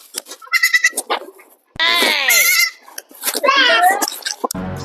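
A young goat kid bleats several times, loud and near, with wavering cries between bursts of people talking, including a voice.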